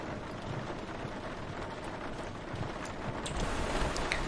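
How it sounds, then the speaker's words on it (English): Rain pelting the cockpit windows of an airliner in a flight simulator game, a soft, steady hiss of drops that holds evenly and swells slightly toward the end. "Yeah, your rain on the windows there"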